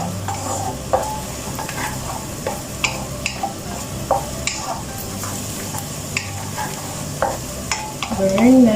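Garlic sizzling and frying in a pan for chicken wings, with frequent stirring scrapes and light ticks over a steady sizzle, ending in a louder burst of frying.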